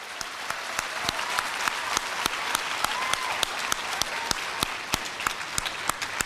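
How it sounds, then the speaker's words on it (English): Applause at a youth ambassadors for excellence awards program honouring educators, a steady smattering of clapping with distinct, sharp individual claps standing out nearby over a softer, continuous crowd backdrop. "let's give them a round of applause for their work"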